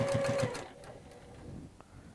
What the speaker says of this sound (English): I'm going to sew from the very corner over there to the very corner here